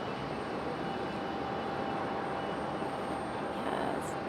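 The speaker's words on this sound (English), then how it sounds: "This one was Delta Connection 5028, a CRJ 900." A Delta Connection CRJ 900 regional jet arrives at Raleigh-Durham International, a steady broadband roar of jet engines that holds at constant loudness throughout, with no voices over it.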